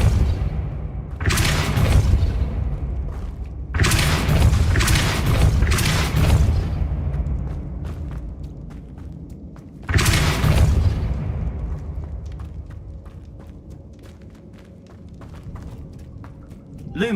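In the Hogwarts Legacy video game, the Depulso spell is cast again and again, each time a loud booming burst followed by a decaying rumble, with quieter thuds and clicks in between.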